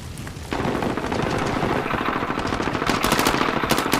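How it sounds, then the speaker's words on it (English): Gunfire in a Call of Duty multiplayer match near a shopping center: sustained rapid automatic weapon bursts with sharp repeated cracks, loud and continuous, intensifying toward the end, with no talking. "I see bullet shots near the shopping center."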